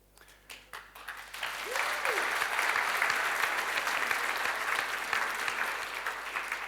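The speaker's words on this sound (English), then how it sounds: "I love the applause, by the way." Audience applause during a conference talk on scroll-driven CSS animations at JSHeroes 2025, a few scattered claps building into sustained full applause from the crowd.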